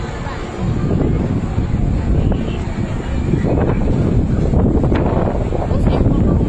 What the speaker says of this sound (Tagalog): Mahangin kasi. mahangin eh.